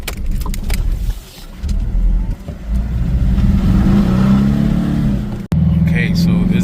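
A 2013 Nissan Navara pickup with a fuel pump fault pulls away from inside the cab, its engine note rising steadily under the road rumble, with a person talking over it.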